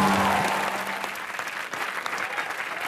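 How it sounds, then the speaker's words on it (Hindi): A studio audience at a comedy show bursts into loud, hearty applause, a thick wash of clapping that starts strong and settles slightly while staying continuous, with faint voices mingled beneath. "उस आदमी के लिए जोरदार तालियां।"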